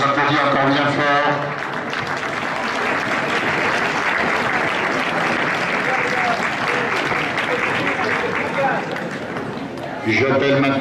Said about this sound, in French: Bravo à la foulée, on les applaudit encore bien fort.